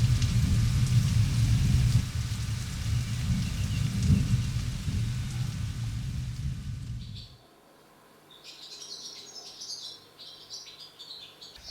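Steady rain with low rumbling thunder fills the first seven seconds, then cuts away to quieter ambience with birds chirping and tweeting in the background.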